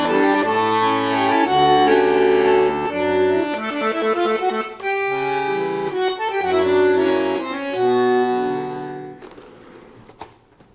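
A melody from an arrangement is played on what sounds like a piano, its tune set against a repeated pedal note, with a steady pulse that thins out and fades near the end.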